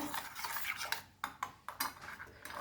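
Salt is stirred into melted sugar for Goan shankarpali, with a few quick, close spoon scrapes and clinks against the pan, in bursts with short gaps and no talking.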